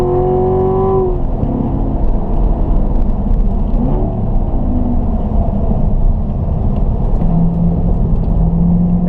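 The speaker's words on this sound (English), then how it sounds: "Find your apex here, accelerating out of the corner." A car accelerates out of a corner on a race track at the Ron Fellows school in Nevada, its engine note sweeping and climbing through the gears in a loud, continuous drone.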